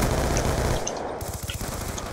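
Sentry turret in Call of Duty Black Ops 2 firing a steady, rapid stream of close, loud rounds, the rattling burst continuing unbroken from start to finish.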